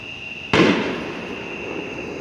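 A single loud firework explodes close by during a lightning storm, a sharp boom that decays into a rolling tail over a steady high-pitched background hum.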